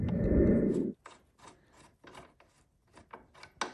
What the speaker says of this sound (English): you can now release the cams and unscrew the bolts